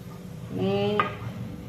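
Farali cutlets fry in hot oil with a soft sizzle, joined briefly by a metal utensil scraping the pan in a short, close burst.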